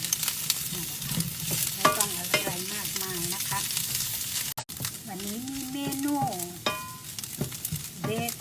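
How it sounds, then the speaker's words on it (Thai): Potatoes tossed and stir-fried in a hot pan with seasoning, a steady sizzle with scraping stirring strokes throughout, close up, while someone talks over much of it. "ทุกคนคะอ้าวลงไปผัดรวมกันเลย"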